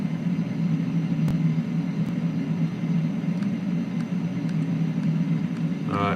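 Learjet engines keep up a steady, loud rumble and whine during a landing at Manchester in Flight Simulator X. A faint tick sounds now and then, with a brief rise in noise at the very end.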